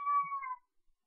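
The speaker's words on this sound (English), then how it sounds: "Sorry, that was my cat." A house cat gives a single short, clear meow, close by, with nothing else around it.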